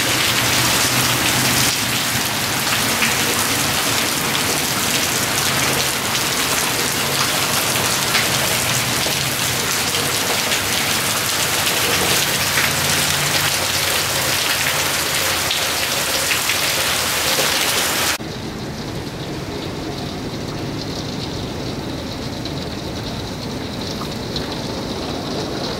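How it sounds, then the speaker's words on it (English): Heavy rain pours steadily in a dense, continuous roar, then abruptly drops to a quieter, softer patter for the last few seconds. "This is raining so hard right now."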